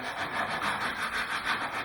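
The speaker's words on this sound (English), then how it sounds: "The easiest way to do that is to use a sanding block" A sanding block works a round-over edge along a length of wood, giving a close, steady rasping rub in even back-and-forth strokes, about three or four passes heard with no talking.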